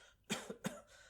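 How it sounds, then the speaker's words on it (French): A person gives a quick pair of dry coughs, close but quiet, in an otherwise calm room. "je tousse, quoi, mais comme tout le temps, comme toujours"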